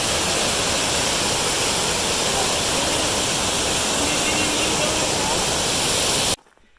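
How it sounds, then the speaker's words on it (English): A raging waterfall on the Pacific Crest Trail in California gives a steady, loud, dense roar of rushing water that fills the whole clip and cuts off abruptly near the end. "Sat on a big rock by the raging waterfall back there."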